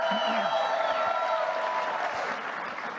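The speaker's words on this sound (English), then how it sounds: "Can you guys clap loud and let Scott know you're also thankful?" Audience clapping at a product launch expo, a dense sustained wash of applause with crowd noise and some overlapping voices, easing slightly toward the end.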